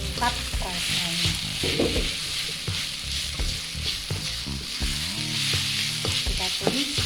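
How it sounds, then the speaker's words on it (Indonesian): Oncom cooked with chili for a cassava-peel dage kadedemes is stir-fried until dry, giving a steady close sizzle broken by repeated scraping and clacking strokes of the spatula in the pan. "Kita tumis sampai kering."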